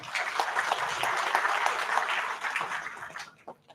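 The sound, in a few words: audience applause welcoming a guest speaker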